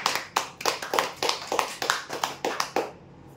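Claps for a geyser winner at a weekly customer prize draw: about a dozen sharp, evenly spaced hand claps in a steady beat, fairly loud and close, with no voices, ending abruptly.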